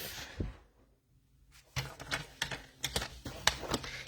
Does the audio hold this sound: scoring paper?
yes